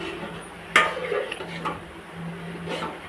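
A utensil scrapes and knocks against a pot as thick anchovy curry with added water is stirred, with a sharp clink at the start and softer scraping after.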